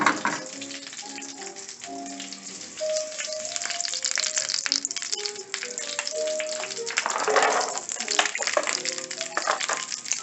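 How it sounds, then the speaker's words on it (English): Greens sauteing with pepper and salt for a salmon Wellington, a steady close sizzle and crackle of frying in the pan running throughout, with faint tonal kitchen sounds over it. "We're going to saute these with pepper and a little dash of salt"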